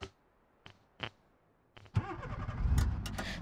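A few faint clicks and thuds, then a car engine in the BeamNG driving game cranks and fires up, settling into a rough idle with rising revs.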